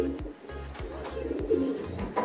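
A male Trah Legend racing pigeon coos in a low, repeated rhythm, about five throaty downward-sliding calls close to the listener, fairly soft and heard alone.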